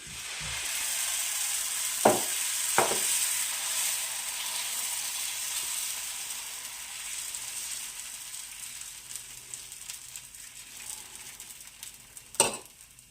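Adai dosa batter spread on a hot pan, giving a bright, steady sizzle that slowly quiets, with a couple of clacks of a ladle early on and another near the end.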